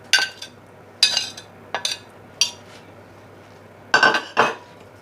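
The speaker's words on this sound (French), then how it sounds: "On mélange." Batter for a bell pepper and goat cheese cake gets mixed in a bowl: a few separate bursts of a utensil clinking and scraping against the bowl, close by, with quiet pauses between and no voices.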